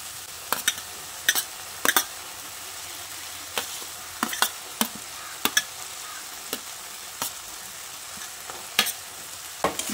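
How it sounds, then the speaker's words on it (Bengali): Fried potatoes are stirred into a dry-cooked spice masala in a pan for a vegetarian eggplant dish, with sharp spoon-on-pan clacks at irregular intervals over a faint sizzle. "ভাজা আলুগুলো দিয়ে মশলার সঙ্গে ভালো করে মিশিয়ে নিচ্ছি"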